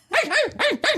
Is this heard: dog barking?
yes